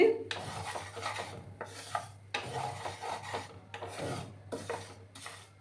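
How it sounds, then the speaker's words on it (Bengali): Urad dal being dry-roasted and stirred in a pan for a Bengali pumpkin dish, heard as repeated raspy scraping strokes of a spatula against the pan. The strokes are close and come in bursts with short pauses between them, with no talk. "এটাকে একটু লাল করে ভেজে নেব আমি"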